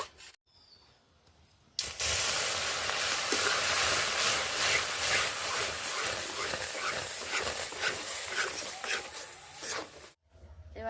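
Water poured into hot roasted semolina in a pan, bursting into a loud, sustained hiss and sizzle that runs for several seconds before cutting off, with a voice faintly present.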